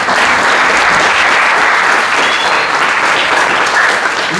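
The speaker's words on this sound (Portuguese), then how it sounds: "uma salva de palmas para ele," Loud, dense audience applause welcoming a professor and lawyer to the stage at a community lecture, a steady roar of many hands clapping throughout.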